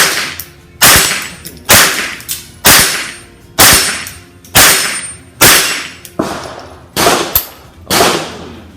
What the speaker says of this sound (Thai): ยิงสักสิบนัดนะครับ